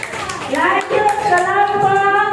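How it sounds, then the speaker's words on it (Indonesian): A fifth-grade class claps for a group of classmates, a short burst of close, brisk hand clapping mixed with children's voices and chatter. "Tepuk tangan untuk kelompok kupu-kupu"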